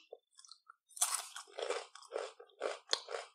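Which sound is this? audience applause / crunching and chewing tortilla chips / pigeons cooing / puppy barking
crunching and chewing tortilla chips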